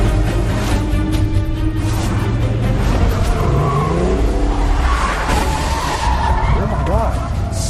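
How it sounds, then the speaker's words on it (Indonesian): From a film, a car skids and screeches during reckless driving maneuvers, with loud tire squeal and engine noise running continuously beneath a voice talking over the action. "suaminya menyetir ugal-ugalan di jalan dan melakukan manuver edan"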